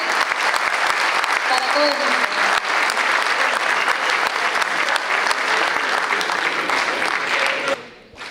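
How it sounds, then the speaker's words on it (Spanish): A studio audience gives a dense, loud ovation for guests Carlos Zannini, Agustín and Patricia. The applause continues unbroken for several seconds, with a voice briefly heard over it, before it cuts off abruptly. "Un fuerte aplauso para Carlos y un fuerte aplauso para Agustín y Patricia por el aporte"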